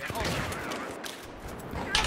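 Auto sniper rifle fire in a video game, a rapid fusillade of shots in quick succession over a busy, noisy background, with voices talking over the gunfire.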